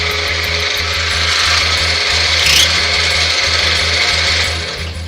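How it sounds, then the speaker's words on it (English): A drill press trims the end of a stained blue holly wood stylus blank, giving a loud, steady rasping grind with a rhythmic low pulsing throughout, with no voices. "Use a drill press."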